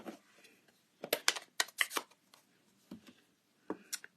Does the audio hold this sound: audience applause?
no